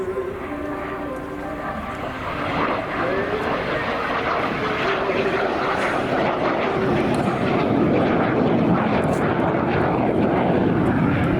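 A propeller aircraft, a type often flown before the C-27J Spartan, drones steadily overhead at an air show, its broad engine roar building slightly louder across the pass with a faint crowd murmur beneath.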